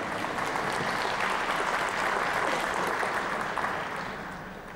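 Dense, loud applause from a large crowd fills an ice arena at its opening ceremony, steady throughout and tapering slightly at the end.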